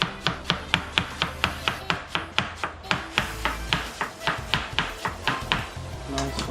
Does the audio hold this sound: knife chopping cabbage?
yes